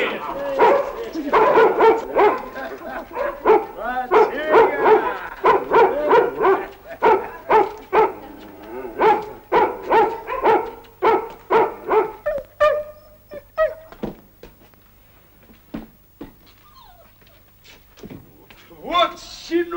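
A dog barks repeatedly in quick bursts, with yips and whimpers mixed in, while people talk over it throughout.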